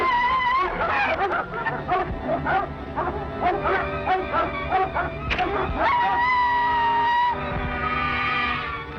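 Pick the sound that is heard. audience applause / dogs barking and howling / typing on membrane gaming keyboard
dogs barking and howling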